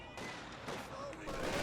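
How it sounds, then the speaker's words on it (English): A grenade bursts amid a World War II battle in Company of Heroes 2, with short, loud booms breaking through a constant din of gunfire and battle noise. "Something hit this. I think it was a grenade."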